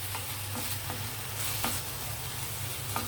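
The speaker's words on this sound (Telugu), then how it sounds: "ఇప్పుడు మనము ఇవి చక్కగా వేగిపోయి కదండి టమాటో వేద్దాం" Tomatoes added to frying vegetables in a pan for a drumstick onion curry, giving a steady loud sizzle with faint stirring scrapes throughout.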